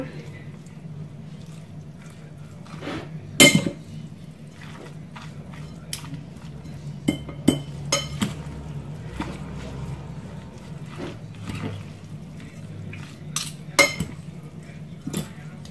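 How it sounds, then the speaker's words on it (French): Utensils stirring nem filling in a bowl, scattered soft squishes and sharp clinks at irregular moments, under a low background hum with a person talking. "Voilà, on mélange bien par contre."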